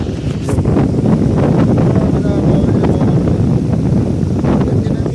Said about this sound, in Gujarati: પવન યાર બહુ મસ્ત આવે યાર